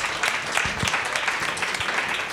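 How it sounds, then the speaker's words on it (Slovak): A seated audience at a book discussion event gives sustained applause, a dense, even patter of many hands clapping that fills the room throughout. "Tento potlesk ešte patrí vám."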